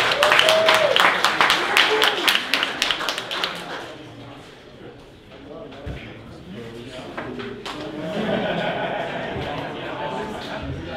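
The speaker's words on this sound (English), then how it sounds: "let's round of applause for all the honorable mentions again" Audience applause at a Cosmos HackAtom hackathon in Berlin, honouring the honorable mentions: a burst of many hands clapping at the start, fading into murmur and scattered taps, with a voice speaking later.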